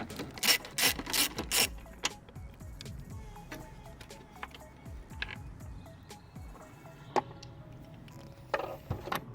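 A ratchet loosens a 12mm bolt on a Hyundai i30N during a gearbox mount insert job: bursts of rapid, loud clicking ratchet strokes up close, followed by scattered metallic clicks and clanks of sparser tool handling.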